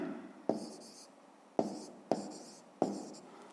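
Pen on paper writing a maths answer, four quick scratching strokes, each starting with a sharp tap, close and quiet.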